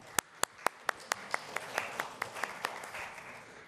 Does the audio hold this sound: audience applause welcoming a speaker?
yes